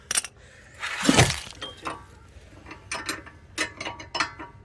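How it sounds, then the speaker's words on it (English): A hand ratchet works a sway bar link loose on an Acura TSX, giving a burst of clicking followed by a series of short, sharp metallic ticks and clinks at close range. "Sway bar link removal."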